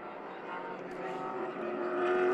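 Vintage race car engine at Road Atlanta during an SVRA Group 10 race, a steady rising roar with buzzing harmonics that grows louder over a couple of seconds as the car approaches.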